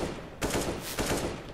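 Rapid gunfire from the video game CS:GO, a dense burst of automatic shots starting abruptly and running continuously, loud and close with no talk over it.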